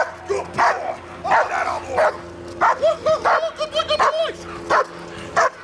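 A police dog barks repeatedly and excitedly at a scene where officers are searching for a suspect, with loud, close barks and yips in quick bursts mixed with whimpers, and people talking over it.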